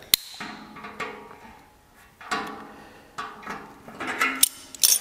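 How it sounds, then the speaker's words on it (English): Cleco clamp being fitted into a drill jig for riveting work: a series of sharp metallic clicks and clacks, close and fairly quiet, spaced irregularly with brief rattles between them and no talking. "drop it into place, and install a cleco clamp"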